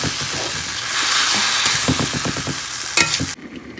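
Paneer and vegetables cook in a pan with a loud, continuous sizzle and a run of scraping stir strokes near the middle, before the sound cuts off abruptly near the end.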